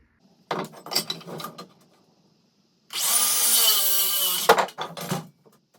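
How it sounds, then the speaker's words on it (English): A power saw cuts through a 2x4, trimming it down to an 8-inch block: a loud, steady whining cut of about a second and a half, preceded and followed by clattering wood handling. "take your 2x4 and cut it down into an 8-inch block"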